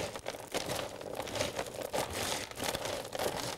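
Potting soil being mixed by hand while repotting a plant gives a steady, close crinkling and rustling, soft gritty scrapes and crunches repeating in an uneven rhythm, fairly quiet with no talk.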